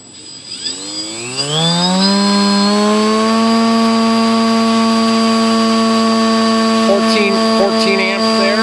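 An electric glider motor with a folding propeller, run on an ESC bench test, spins up from silence into a steady, loud, high-pitched whine. The tone rises in pitch and then holds, with slight pitch changes near the end.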